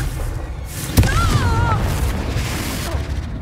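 The Confringo spell in Hogwarts Legacy goes off with a single sharp blast, then a whooshing tail, over continuous game ambience.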